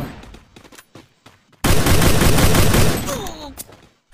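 Automatic gunfire in the mobile battle game Free Fire Max during a Clash Squad match on the Alpine map, a sudden loud sustained burst after scattered shots, with a player's voice heard earlier.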